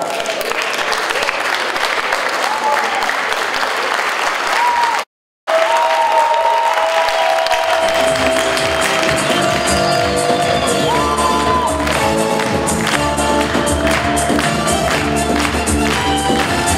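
A crowd applauds loudly and steadily at a KVN comedy competition, with scattered shouts and whoops, a brief gap, then clapping continues as music begins underneath.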